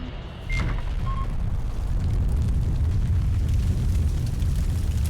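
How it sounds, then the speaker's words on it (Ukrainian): A sudden loud blast as a tank's ammunition explodes in the video game Combat Mission Shock Force 2, followed by a sustained, heavy low rumble that fills the rest of the clip, with faint higher electronic tones early on. "Попадання в танк, і там вибух боєкомплекту"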